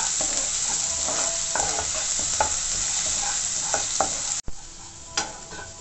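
Crushed garlic and popped mustard seeds sauté in hot oil, giving a steady close sizzle and frying hiss with scattered stirring scrapes and a sharp clack near the end.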